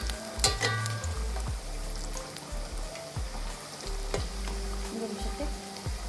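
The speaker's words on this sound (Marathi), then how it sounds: "हे बघा, छान तळून घेते याला" Onion pakoras, made without water in the batter, deep fry in hot oil with a lively, crackling sizzle, broken by clattering stirs and scrapes of a utensil against the pan, with no talking.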